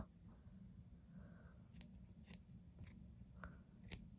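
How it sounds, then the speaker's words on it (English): Quiet, crisp scissor snips trimming a yarn pom-pom, about six cuts spaced irregularly over a low steady background hum. "with a good pair of scissors, you can just trim any long bits"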